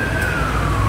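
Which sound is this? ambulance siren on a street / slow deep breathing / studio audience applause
ambulance siren on a street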